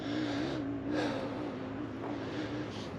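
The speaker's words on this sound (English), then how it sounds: "I hear those mountain bikes, or those dirt bikes up there." Dirt bikes whine faintly somewhere up in the hills, a distant wavering engine drone rising and falling in pitch over steady outdoor ambience on a hot day near Ortega Highway.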